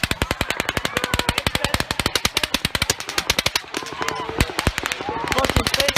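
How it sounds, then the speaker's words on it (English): Rapid, uneven volleys of sharp cracks like a string of firecrackers go off amid an outdoor country music festival crowd, dozens of close, loud pops with faint voices between them. "Fucking fake gunshot."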